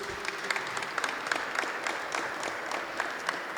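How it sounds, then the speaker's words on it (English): A crowd at a Black History Month tribute evening in Pittsburgh applauds steadily, many hands clapping at once in a dense, sustained patter with no voices over it. "So round of applause for the Vashon family"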